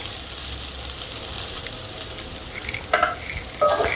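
Grated coconut roasts in a pan, giving a soft continuous sizzle with light stirring and a few sharper scrapes and clinks near the end, no speech.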